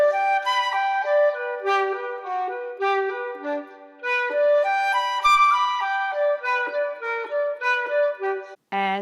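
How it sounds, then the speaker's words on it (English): Flute playing a Köhler Op. 33 No. 5 étude in quick running semiquavers, the first note of each four-note group accented, clear and close with no talking. "you might accent the first note of each group of semiquavers"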